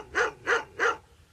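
Three loud, evenly spaced barks from a dog, close and clear with nothing else over them.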